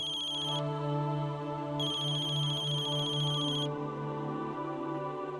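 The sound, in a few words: phone ringtone ringing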